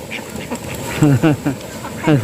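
Ducks on a wetland give short nasal quacks, several bursts close by in quick succession, with a person's voice mixed in among them.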